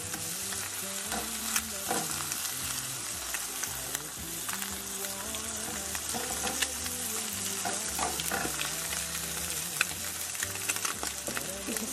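Food sizzles steadily in a hot pan with habanero ranch spread on as a glaze, a continuous loud frying hiss with occasional stirring scrapes and no talk.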